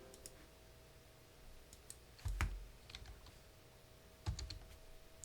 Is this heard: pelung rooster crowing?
no